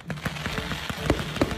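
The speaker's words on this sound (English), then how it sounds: "And then the fireworks" Fireworks go off at a wedding celebration in Cabo, a quick run of sharp popping bursts and crackles at moderate volume.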